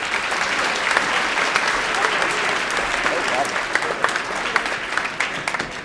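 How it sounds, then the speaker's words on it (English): A veterans day ceremony audience at a school applauds the band and choir after the national anthem, steady dense clapping with a few louder claps throughout. "Let's give them another round of applause."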